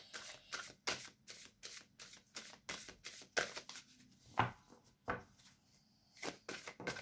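Tarot cards are shuffled and drawn by hand, with a rapid series of crisp riffling slaps and soft card slides in quick irregular bursts, close and fairly quiet, with no talking.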